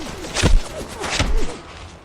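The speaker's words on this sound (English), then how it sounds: "You can already hear that gunfire." Fallout 4 gunfire at Home Plate: two heavy, muffled shots with thumping impacts about a second apart, over a constant background rumble.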